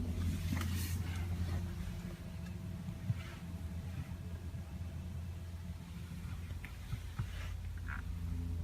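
A luxury car's engine, push-button started from the driver's seat, settles into a steady low idle rumble that stays even and fairly close throughout, with a few faint clicks on top.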